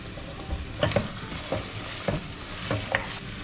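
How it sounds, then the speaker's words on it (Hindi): Tomatoes and chillies fry with garlic-ginger paste for mutton pulao, a steady close sizzle broken by several sharp scraping clicks of a spoon stirring the pan. "अब इसको मैं 2 मिनट तक भूनूंगा ताकि टमाटर गल जाए"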